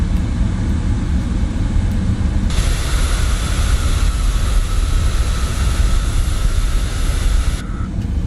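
A PMDG 777-200ER in Microsoft Flight Simulator taxis at Jeddah with a loud, steady engine roar; a high whine joins in partway through, holds, then drops away near the end.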